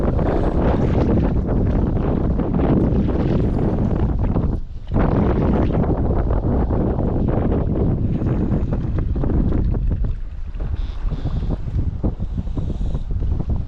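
Strong wind blowing across open water, a constant loud roar buffeting the microphone with one short lull, heard alone without voices.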